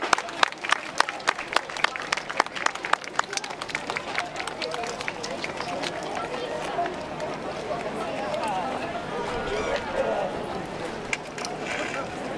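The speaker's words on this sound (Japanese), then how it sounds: "皆さん大きな拍手でお迎えください。" Audience applause welcomes a yosakoi dance team at a festival in Oshu, starting with sharp scattered claps that thicken into steady clapping mixed with crowd murmur.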